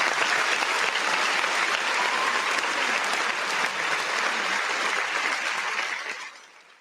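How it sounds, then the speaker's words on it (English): Sustained applause and crowd noise follow a kicker's successful field goal during a Michigan versus Ohio State college football game, a steady wash of clapping that tapers off near the end. "let's give Zavada a round of applause."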